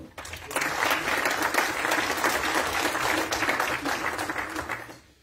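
Applause breaks out at a French agglomeration council meeting to welcome a newly installed colleague, a dense, steady clapping from the assembled members lasting about five seconds before fading out.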